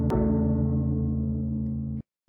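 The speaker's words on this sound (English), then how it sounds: "taking actually a sample of a gong" A sampled gong: a single metallic strike blooms into a long, humming ring that holds steady for about two seconds, then cuts off abruptly.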